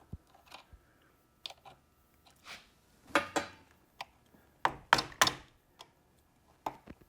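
A screwdriver prying old, dry-rotted rubber isolators out of a Hurst shifter, irregular scraping creaks and sharp clicks in short bursts, close and moderately quiet, with brief pauses between efforts.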